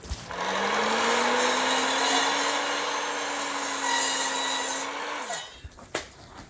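A power saw cuts a wooden stud at an angle for the front wall of a garage workshop, a loud, steady whine for about five seconds that winds down at the end, followed by a few light knocks.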